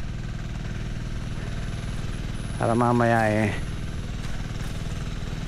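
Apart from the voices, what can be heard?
engine running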